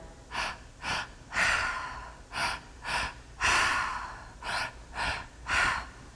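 Slow, deep human breathing during a guided breathwork session, about nine audible breaths alternating longer inhales and exhales, close and fairly soft with no talking.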